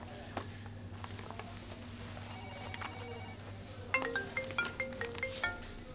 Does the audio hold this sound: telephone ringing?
yes